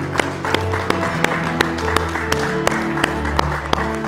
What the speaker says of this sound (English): Let's give the Lord another hand clap of praise.